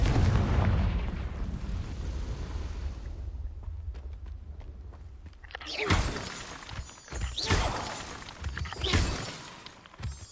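Confringo fire-blast spell cast in Hogwarts Legacy: a rumbling low roar and crackle first, then after a lull several sharp bursting blasts arrive in quick succession, loud and close.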